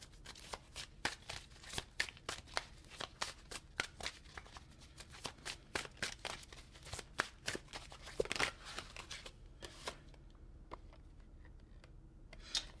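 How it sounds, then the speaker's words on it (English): Tarot cards are shuffled and pulled from a deck in quick, close, crisp flicks and riffles, a dense run of papery snaps that thins out to quiet at the end. "let me pull a few more cards real quick"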